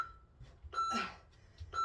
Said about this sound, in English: Because this timer is on a loop, it doesn't stop.